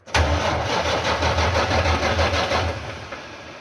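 A Detroit 12.7 diesel engine in a Volvo VNL truck cranks with a rapid, rhythmic starter churn, close and loud, for about three seconds before it winds down without fully catching.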